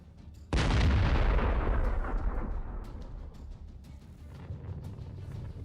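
A single powerful explosion erupts during an attack on lightly armored Russian vehicles, a sudden loud blast that starts the clip after a quiet moment, then rolls and fades away slowly over several seconds.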